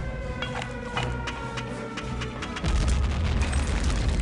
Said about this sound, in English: Let's see if I can throw a grenade in there.